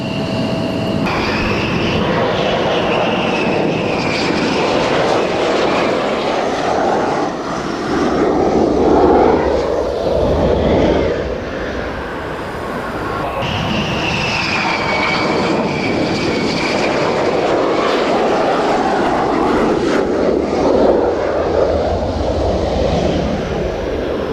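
A fixed-wing aircraft takes off at the Royal International Air Tattoo airshow, a loud, steady engine roar that swells and holds with shifting pitch, heard alone without talk.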